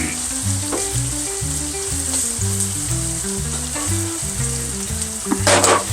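Chicken thighs fry in a pan for keto chicken Marsala, giving a steady, close sizzle over a stove with a brief louder crackle near the end as pieces are turned; no one speaks.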